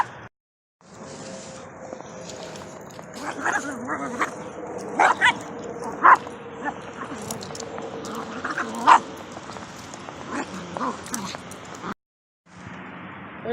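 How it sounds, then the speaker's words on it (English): Riley the dog barks at passersby on a snowy day outdoors, giving several sharp yips and barks spread over steady background noise, moderately close. "There's Riley barking at everybody."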